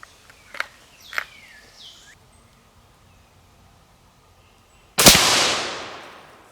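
Two faint distant shots are followed by one loud, close report from a 6.5 Grendel AR-platform rifle firing 120gr Speer Gold Dot handloads with Varget powder; the blast rings out and decays slowly over about a second and a half.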